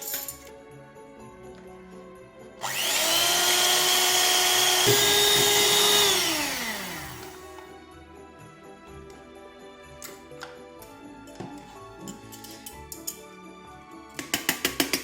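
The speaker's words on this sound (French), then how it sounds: "on va utiliser donc notre petit robot à main pour monter les blancs en neige" An electric hand mixer whips egg whites to stiff peaks, its motor kicking in with a loud, steady whine for a few seconds before winding down, followed by faint clicks and taps.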